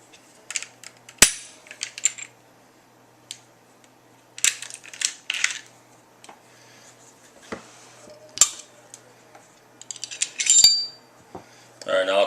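Glock pistol being field stripped: sharp metallic clicks and clacks of slide and parts handled, separated by quiet pauses, with a few louder snaps and rattles close by.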